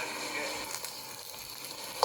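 Eggplant stir-fried with garlic and onion in a pan gives a steady, fairly quiet sizzle with soft stirring scrapes and a brief clatter at the end, with no talking.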